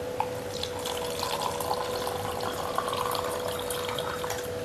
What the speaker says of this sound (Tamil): இப்போ நான் கெங்கன் வாட்டர் ஊற்றுறேன்.